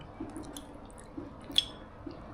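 Someone eats coconut milk payasam with butter-roasted nuts, producing faint, close chewing with soft wet squishes and a small crunch or two, otherwise quiet.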